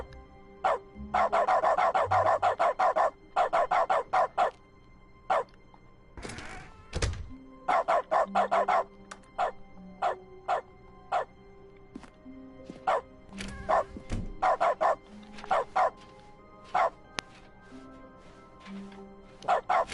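A dog barks repeatedly in The Stanley Parable Ultra Deluxe, in clustered bursts of sharp, loud barks with short gaps and some dull thunks between them over twenty seconds.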